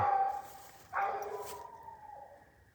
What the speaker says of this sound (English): He's barking a little slow on it.